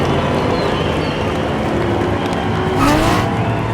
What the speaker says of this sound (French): Oh, ça dérape pour Jebo et Rosie qui quitte la piste.